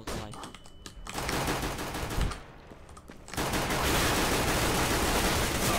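AK rifle fire in CS:GO: dense, rapid automatic bursts, broken up at first and then a long sustained spray of shots that grows louder toward the end.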